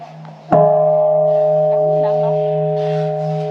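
A single strike on a large bell at a Japanese-style temple gives a sharp hit, then a deep, steady ring that hums on loudly and slowly fades, with faint voices in the background.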